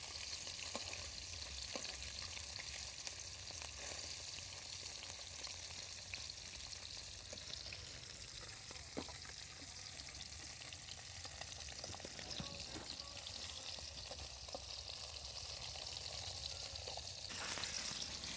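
Freshwater fish from a village wetland frying in hot oil, a steady dense sizzle and crackle that carries on without a break for the whole stretch, with occasional soft stirring clicks and no voices.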